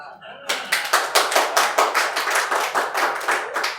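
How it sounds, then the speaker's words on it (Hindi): Audience clapping at a Hindi poetry performance, a run of distinct rhythmic handclaps starting after a brief pause and continuing steadily, fairly close and clear. "आपकी तालियां कमजोर पड़ रही हैं"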